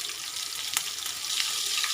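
Cumin seeds and green chilli pieces crackle in hot oil for a peanut kadhi tempering, a close, bright, hissing sizzle that swells slightly with a few sharp pops, no voices.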